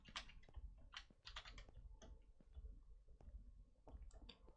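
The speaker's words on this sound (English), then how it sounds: "I apologize for any background noise, especially if it comes to like keyboard noise." Typing on a computer keyboard during a Minecraft session, a steady run of quick clicky keystrokes in irregular bursts, faint and close, with no talking over it.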